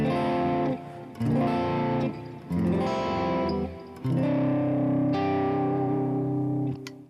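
Distorted electric guitar chords in a prog metal djent style ring out one after another, each sustained and bright with effects, forming a slow repeating progression.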